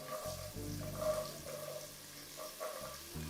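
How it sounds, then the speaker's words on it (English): Squash sizzles in hot oil, a quiet steady crackling hiss with some faint clinks of stirring. "Hear that sizzle."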